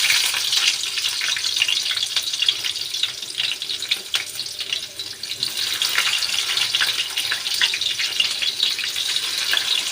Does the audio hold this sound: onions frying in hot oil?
yes